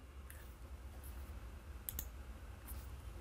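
A few scattered keystrokes on a computer keyboard while entering items in counter sales software, faint clicks over a low background hum.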